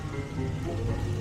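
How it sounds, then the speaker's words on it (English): Heavy rain drumming steadily on the body of a cargo van during a snowy, slushy drive, a dense constant patter with no talk. "it's raining very, very hard"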